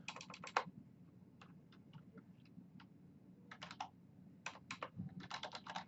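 Someone types a password into a networking device's configuration on a computer keyboard, the keys clicking in quick bursts with short pauses between them. The clicks are close and clear over a quiet background hum.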